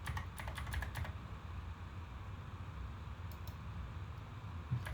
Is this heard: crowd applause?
no